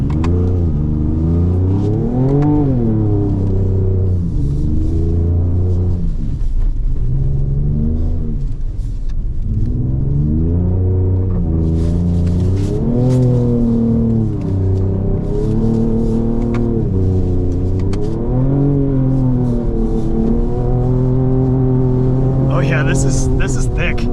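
2024 Ford Ranger Raptor engine revving and pulling through deep snow on an ice racing course, with repeated rising and falling rev surges in a loud, close cabin rumble under occasional talk.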